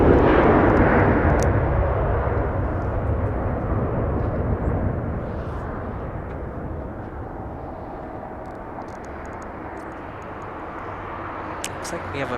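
An airliner in Pixar Toy Story livery passes at LAX, its jet engine roar loudest at first and then fading into a long, broad rumble as someone talks over it.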